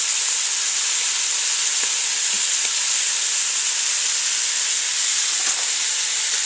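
Food frying in a pot while making New Orleans red beans and rice, a loud, steady sizzle and hiss filling the whole stretch with no talking.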